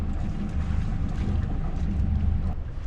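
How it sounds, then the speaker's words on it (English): A boat engine ticks over at idle on a fjord, a low steady rumble under wind and water noise that continues evenly throughout with no speech. "I've just got the engine on tick over just to keep helm"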